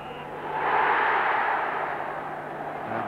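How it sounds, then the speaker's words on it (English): A football crowd at a Bristol Rovers versus Cardiff City match cheers and roars, a broad distant swell that rises, peaks and then eases into a steady hubbub. "the cheers and the roars of the crowd for Nicky Plattner"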